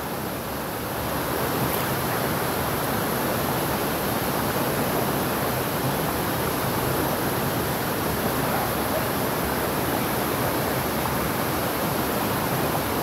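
Water from a forceful stream at a bathing spot in Barra do Garças, Mato Grosso, pounding continuously onto a bather's back, a dense, loud, unbroken rushing roar heard close up with no talking.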